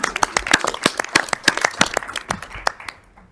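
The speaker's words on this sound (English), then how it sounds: "let's give them a round of applause for volunteering today" Audience applause at a school board meeting, a burst of many hands clapping in a dense, fairly close patter that tapers off toward the end.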